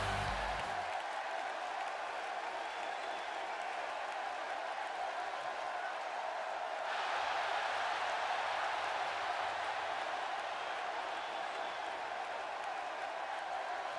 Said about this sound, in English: this Dallas crowd is certainly very happy to see him.